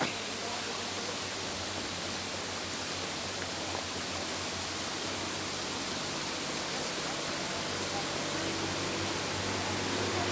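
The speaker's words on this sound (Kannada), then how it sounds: "ಮಹಾರಾಷ್ಟ್ರ ರಾಜ್ಯದಲ್ಲಿ ಬರ್ತಿರ್ತಕ್ಕಂಥ ಒಂದು ಫಾಲ್ಸ್ ಇದು ಅಂಬೋಲಿ ಫಾಲ್ಸ್ ಅಂತ" Amboli waterfall in Maharashtra roars as a dense, steady broadband rush of falling water, loud and unbroken from start to finish, with no talking heard.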